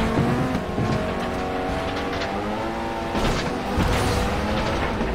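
A car in the FlatOut: Ultimate Carnage racing game surging forward on nitro: loud, gritty engine roar with shifting revs, a brief dip, then a renewed rising blast of power near the end.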